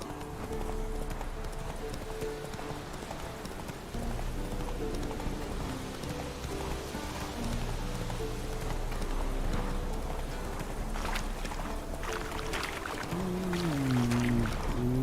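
Roach the horse gallops in The Witcher 3 with a steady, rhythmic clip-clop of hooves over a continuous ambient bed, ending in a brief whinny-like vocal sound.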